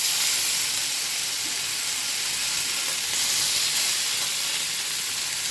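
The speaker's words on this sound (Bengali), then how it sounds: "এবার আমি ওই বেগুন ভাজা তেলের মধ্যেই অল্প নুন হলুদ মাখানো ইলিশ মাছটা আমি দিয়ে দেবো" Hilsa fish, rubbed with salt and turmeric, frying in oil left from frying eggplant, giving a loud continuous bright sizzle and hiss that stays steady with no voices.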